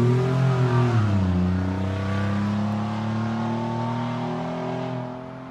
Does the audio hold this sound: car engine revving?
yes